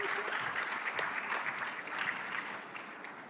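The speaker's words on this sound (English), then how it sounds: "Next, we have Zach. Round of applause," Audience applause at a summit panel session, a steady wash of many hands clapping throughout, moderately loud and fading slightly toward the end, with no talking over it.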